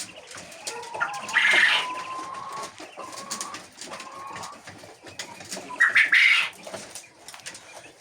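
Hens in a chicken coop give short clucks and squawks, with two louder calls standing out over a low background of softer clucking and rustling, heard close with no talking.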